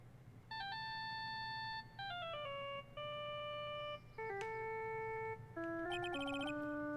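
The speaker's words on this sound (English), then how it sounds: "I bet it was this ringtone that caused it" A cell phone ringtone plays in the Ace Attorney game on PS4: a loud, clear electronic melody of stepped tones in short phrases, ending in a brighter, rapidly trilling ring, with no voices.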